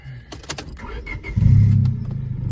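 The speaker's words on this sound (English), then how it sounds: "That's how it sounds inside with the muffler off." Inside a 1998 Honda Civic LX with the muffler removed, a few light clicks give way to a loud, throaty engine rumble that swells up and then settles to a steady drone.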